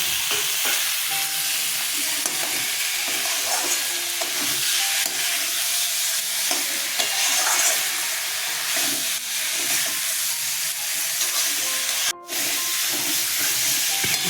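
Ridge gourd and potatoes dropped into fried spice masala, giving a loud, dense, continuous sizzle and hiss close by, with stirring scrapes and a brief dip near the end; no talking.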